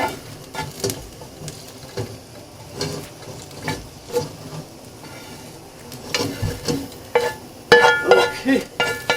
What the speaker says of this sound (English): I'm gonna add this to my meat mixture and let it cook a little longer so the green beans can